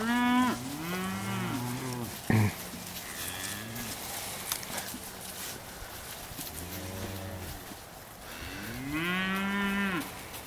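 Steer calves moo repeatedly at a cattle sale, several loud, drawn-out bawls rising and falling close by, with a sharp clatter partway through and steady barn noise underneath.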